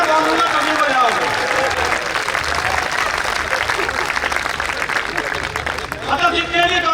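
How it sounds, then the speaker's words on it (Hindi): A crowd applauds at a Hindi comic poetry recital (kavi sammelan), with loud, dense, steady clapping that runs the full length of the clip and a babble of voices mixed in. "तालियां मेरे लिए बजाओ या मैं बोलूंगा कभी बजाओगे"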